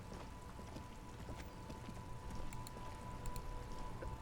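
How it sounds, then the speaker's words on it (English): Rain falls in the video game Disco Elysium as a faint, steady hiss of drops with scattered light patters on surfaces and a low background hum, with no talking over it. "It's raining again."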